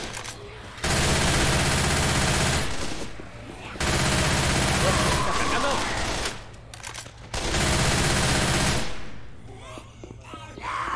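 Bursts of rapid video game gunfire from a zombie game in three long stretches, loud and dense, with short quieter gaps between them.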